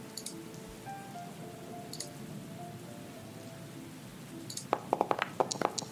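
Rain falls steadily outdoors in a soft, faint hiss, with a few scattered drips and taps growing denser toward the end.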